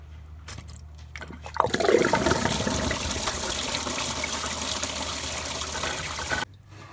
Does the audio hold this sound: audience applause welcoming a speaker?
no